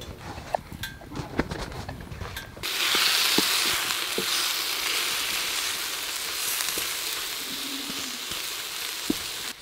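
Vegetables with Italian seasoning and salt, and salmon, frying in a pan at a wild canoe camp by Loch Shiel after dark, a steady loud sizzle that starts abruptly after a few quiet clinks and taps, with no talking.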